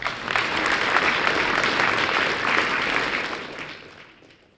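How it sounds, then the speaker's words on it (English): A high school talent show audience breaks into full, sustained applause that holds evenly for several seconds before fading away at the end. "Give them a round of applause."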